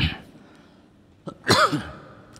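A single harsh cough rings out close by after a quiet stretch, with a brief throat sound just before it.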